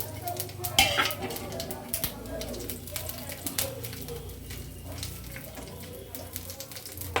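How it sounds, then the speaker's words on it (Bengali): Whole garam masala, cumin seeds and bay leaf crackle in hot refined oil as a tempering, with irregular pops and spatters over a low sizzle and occasional stirring scrapes. "আমি দেখো গোটা গরম মশলা, জিরে, তেজপাতা ফোড়ন দিয়ে দিলাম"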